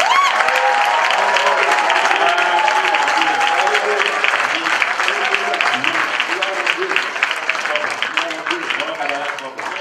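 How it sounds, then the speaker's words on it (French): A church congregation applauds and cheers during a Wednesday service, a dense, loud wash of clapping with voices mixed in that holds steady throughout and eases slightly toward the end. "Acclame encore."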